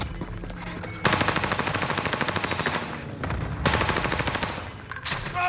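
Sustained automatic gunfire from a video game firefight, loud and close, rattling in long rapid bursts with a brief gap midway before resuming.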